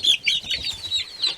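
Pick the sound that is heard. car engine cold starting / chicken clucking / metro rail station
chicken clucking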